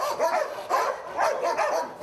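Several dogs bark repeatedly at an animal shelter in Tel Aviv, loud overlapping barks and yips arriving in steady bursts close by, with no talking over them.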